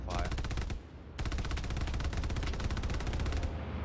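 Rapid automatic machine gun fire in the Hell Let Loose game rattles in two long, fast bursts separated by a brief pause, loud and close, with a voice speaking briefly over it.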